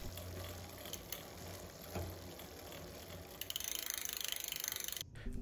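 Derailleur on a Velowave Ghost e-bike shifting toward first gear during a low limit screw adjustment, heard as faint ratcheting clicks and a steady mechanical whir, then a quick regular run of ticks near the end.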